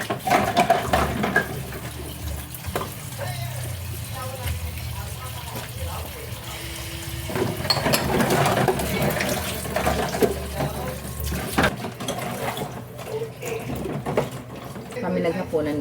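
Tap water runs steadily into a kitchen sink while dishes are washed after dinner, with clinks of plates and a voice talking over the continuous flow throughout.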